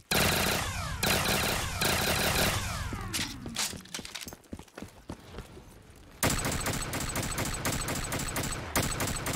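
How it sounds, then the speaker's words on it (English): Rapid gunfire from a burst-fire weapon in a video game, dense clattering volleys broken by a short sparser stretch of single cracks before the rapid firing picks up again. "It's a burst gun, it looks like."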